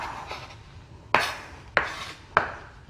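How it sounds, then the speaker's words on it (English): Knife chopping sausage on a wooden cutting board for Cajun Creole gumbo, three crisp, evenly spaced thuds rising out of a quiet background, close and fairly loud. "Now all my beautiful sausage is all chopped up."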